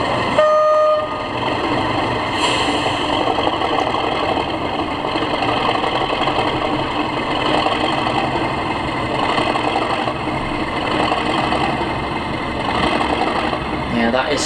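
Accurascale class 37 model locomotive with DCC sound running as a light engine, a steady diesel engine drone with rail rumble throughout, a brief horn-like tone near the start, and continuous talk over it.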